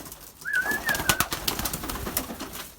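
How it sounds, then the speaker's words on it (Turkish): Pet pigeons or doves calling inside a backyard coop, with a single rising coo-like call standing out over a busy wash of fluttering and shuffling noise, fairly close and moderately loud. "bayağı kuşlarım var"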